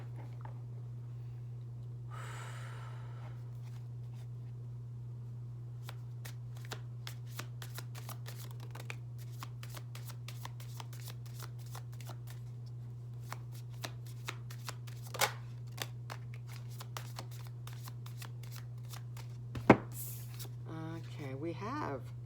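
Tarot cards shuffled by hand, a rapid run of soft riffling clicks over a steady low hum, growing busier midway and ending in a brief louder flurry and a knock.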